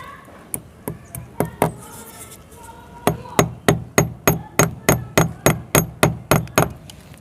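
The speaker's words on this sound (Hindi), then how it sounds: "इस तरह से आपको यहाँ पे ठोक लेना है।" Hammer strikes drive a nail into a hard brick wall, sharp metallic blows close up: a few spaced hits, a short pause, then a steady run of about a dozen evenly timed strikes.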